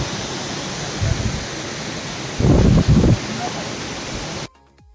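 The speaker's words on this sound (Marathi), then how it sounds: "तुम्ही पाण्याच्या आवाजाचा आता आस्वाद घ्या" A stream rushes beside the Kedarnath trekking path at night, a steady broadband roar of water that swells into louder splashing bursts midway before cutting off abruptly near the end.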